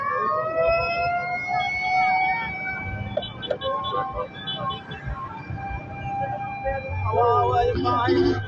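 A wailing fire truck siren rises and holds steady at a fire in Antipolo City, Philippines, under a busy mix of crowd noise and nearby voices, continuing throughout.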